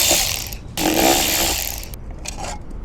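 Ratchet or 8mm socket clicking as it backs out screws holding a license plate on a Ford Maverick, a close mechanical whirring run in bursts with short pauses between.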